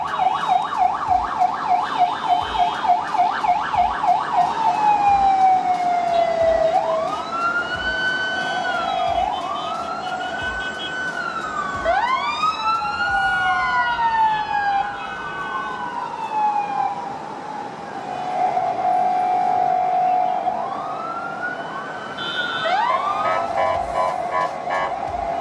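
Ambulance siren wailing through traffic on a narrow road, sweeping up and down in long rising and falling tones over a steady engine and road hum, loud and close throughout with quick yelping bursts at the start.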